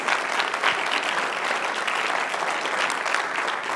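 A conference audience at a software developer talk breaks into dense, sustained applause, loud and even throughout with no voices standing out.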